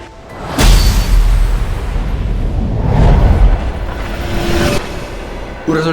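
A freight train strikes a tractor at a level crossing: a sudden, violent crash erupts into a heavy roaring rumble that swells and fades over several seconds, then cuts off abruptly.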